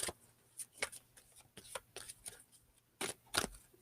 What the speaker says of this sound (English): Let me go ahead and shuffle these one more time. Shuffle them real good.